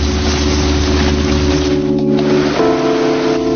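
The 4.5-liter V8 of an Infiniti Q45 hums with a steady engine drone, then shifts to a slightly higher settled tone partway through, loud and close with no talk.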